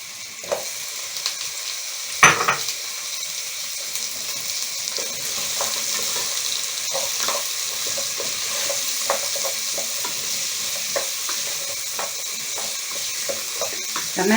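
Tomatoes fry in a pot for lentil soup, with a continuous soft sizzle and repeated scraping stirs, plus one sharp clank early on, with no talking.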